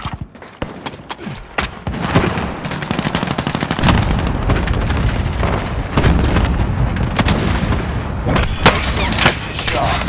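Dense Call of Duty Warzone battle audio: rapid automatic gunfire and sharp single shots crackle loudly for ten seconds, with heavier explosive thuds and brief voice lines mixed in.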